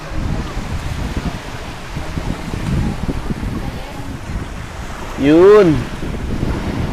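Ocean waves wash onto a beach at a sea turtle conservation site, a steady, loud surf roar with wind buffeting the microphone, while a voice speaks briefly in the middle of it.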